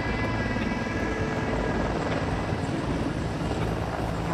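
A CH-53E Super Stallion heavy-lift helicopter with three turboshaft engines runs nearby, its steady turbine whine and thudding rotor drone holding loud and continuous throughout.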